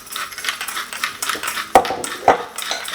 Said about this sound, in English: So give that a nice stir, and then we'll just leave that to one side.